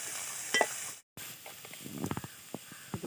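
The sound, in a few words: onions sautéing in a pan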